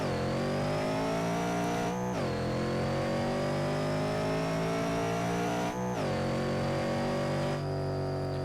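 A 1932 Ford Gasser launches hard at a drag strip. Its engine roars loud and close, climbing steadily in pitch, with two sharp gear shifts that briefly cut the revs before it pulls again.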